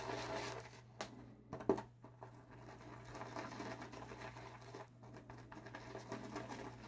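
A badger-hair shaving brush swirls shaving soap into lather with a soft, close, continuous scratchy patter and faint squishing strokes, set against a low steady hum.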